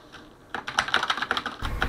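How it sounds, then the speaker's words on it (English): A Mionix Zibal 60 mechanical keyboard with Cherry MX Black switches is typed on rapidly after a brief quiet, giving a close, dense run of clacky keystrokes that ends in a louder rumble. "I'm actually trying my best to get as much noise from the keyboard as possible"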